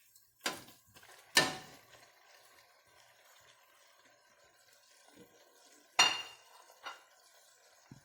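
Cod for Bacalhau à Gomes de Sá gently mixed in a pan: a few sharp metallic clinks of a utensil against the pan, spaced apart, with quiet scraping between them.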